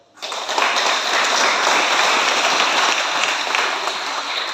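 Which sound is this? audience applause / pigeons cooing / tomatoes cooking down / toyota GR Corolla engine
audience applause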